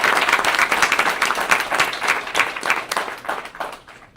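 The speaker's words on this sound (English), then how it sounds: "one more round of applause for our amazing staff." Audience at a school board meeting applauds with a dense, steady patter of many hands clapping, fairly close, gradually thinning out toward the end.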